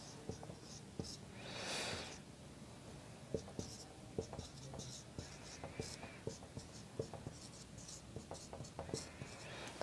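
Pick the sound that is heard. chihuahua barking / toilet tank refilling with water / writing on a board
writing on a board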